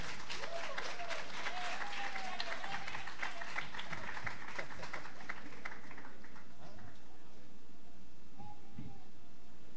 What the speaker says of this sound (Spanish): Así que un aplauso también a Gadiel.